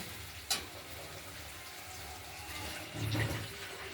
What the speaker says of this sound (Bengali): আমরা জল দিয়ে দিলাম।